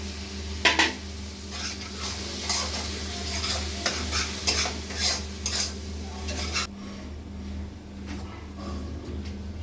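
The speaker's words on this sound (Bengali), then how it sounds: "এতে একটু লঙ্কা দিয়ে দেবো নাড়িয়ে এই মশলাটা গুলে রেখেছিলাম এটা দিয়ে দেবো" Chilli and spice paste stirred into a frying curry, a spoon clattering and scraping in the pot over a sizzle and a low hum, then the stirring ceases and only the quieter frying remains.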